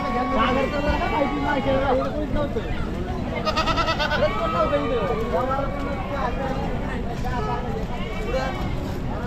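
Goats bleat repeatedly at a busy goat and sheep market in Chakan, Maharashtra, their wavering calls rising over a dense, continuous din of crowd voices and people talking.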